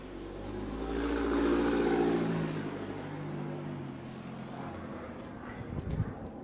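A car engine revs loudly and close, swelling to a peak in the first two seconds, then settling into a lower rumble before a brief rough burst near the end.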